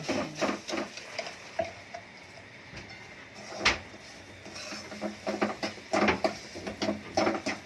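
Prasad for a Satyanarayan puja is stirred and mixed in a pan, giving soft irregular scrapes and light clinks close by that come in scattered bursts with quiet gaps, and there is no talk.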